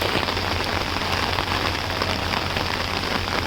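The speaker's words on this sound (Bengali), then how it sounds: "দেখেন বৃষ্টির ফুটা পড়তেছে দেখা যায়" Heavy rain pours steadily beside a railway line at night, a dense, constant hiss of drops hitting surfaces with no break, close and loud throughout.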